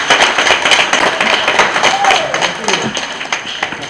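Audience applause and cheering at a university guild swearing-in and handover ceremony at Mbarara University, a steady crowd noise of clapping under a spoken voice that carries throughout.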